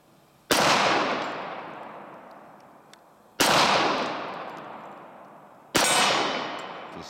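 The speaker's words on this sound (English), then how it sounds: "test with the Point Man 45 from Dan Wesson" Three loud, sharp .45 ACP pistol shots from a Dan Wesson Pointman PM-45 1911 ring out a few seconds apart, each a sudden crack followed by a long decaying echo.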